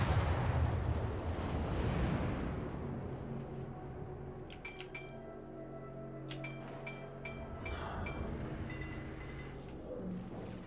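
Naval gunfire from a warship in a video game: a heavy boom rolls into a long low rumble that fades, followed by faint metallic pings and higher tonal effects.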